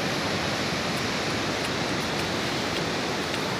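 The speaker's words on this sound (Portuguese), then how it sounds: "A areia da Praia do Forte, as ondas tão altas, olha." Tall ocean waves washing onto the sand at Praia do Forte beach, a constant broad hiss of surf that stays loud and even throughout, with no voices.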